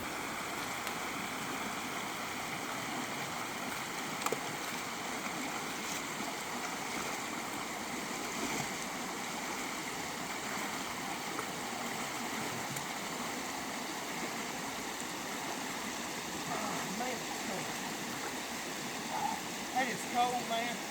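Cold stream water rushing steadily around a hiker wading across in Crocs on a forest trail section, a continuous broadband wash with occasional small splashes near the end.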